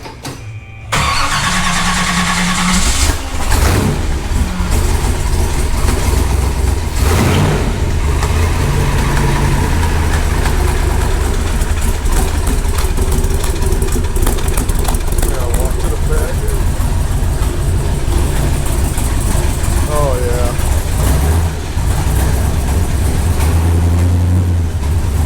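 A factory 1967 Corvette 427 Tripower big block with a flat tappet cam fires up and settles into a loud, steady, lumpy idle that runs throughout, with people talking over it.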